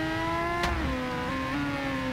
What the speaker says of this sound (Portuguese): Tem uma super moto aqui, eu tô escutando o barulho dela.